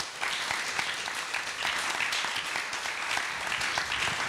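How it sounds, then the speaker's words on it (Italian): Sustained applause from an audience at a film festival event, steady dense clapping filling the whole stretch for a film director, fairly distant and even in level. "al regista, Cesar Miranda, a cui chiedo un applauso, per favore"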